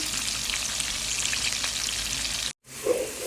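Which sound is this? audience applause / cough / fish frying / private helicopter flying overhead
fish frying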